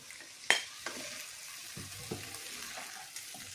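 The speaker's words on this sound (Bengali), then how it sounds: "এবার আমি আলুটা দিয়ে দিলাম," Potatoes sizzle softly in a pan with fried onions, with a few sharp clinks and scraping stirs, quiet and close, no voices.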